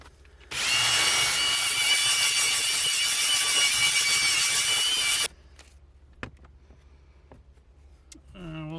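A power drill fitted with a scrubbing brush works cleaner into a car's interior mat or seat, whirring loudly and steadily for several seconds before stopping, followed by a few faint knocks and handling noises.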